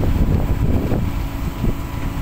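Strong wind blows at a road construction site with a paving crew, a loud continuous rumble and buffeting against the microphone that rises and falls without letup.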